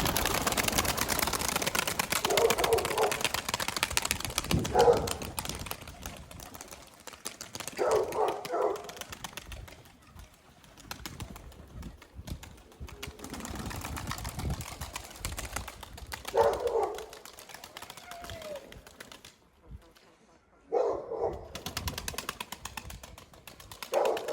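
A flock of pigeons flies close by outdoors, with intermittent bursts of flapping wings rising and falling between quieter gaps, some near and loud, others fainter, and no talk.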